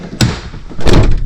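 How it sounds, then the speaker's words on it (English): A car door slamming shut on a Land Rover Defender, a sharp thud near the start followed by a second heavier thump and rattle about a second later, close and loud. "Close the door."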